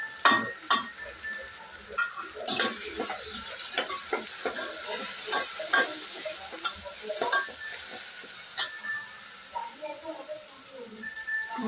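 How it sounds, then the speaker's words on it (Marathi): Dry spices roasting with onion and tomato in a pan sizzle continuously while a spoon stirs and scrapes in quick, irregular strokes, close and fairly loud, with a voice talking faintly underneath. "एक मिनिट चांगले भाजून घेऊया सगळे सुके मसाले"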